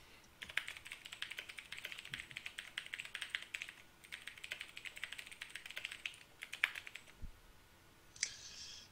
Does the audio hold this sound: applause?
no